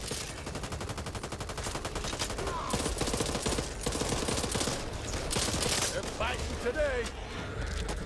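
Gunfire aimed at zombies in the video game Back 4 Blood, with rapid automatic bursts and scattered single shots over a busy, noisy background.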